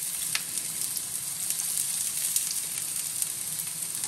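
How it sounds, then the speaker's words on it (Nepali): Onion hits hot oil in a pan for chicken keema noodles, giving a loud, steady, even sizzle that holds throughout with faint crackles scattered on top. "यसमा चाहिँ तेल तातिसकेको छ। प्याज एड गर्छु फर्स्टमा।"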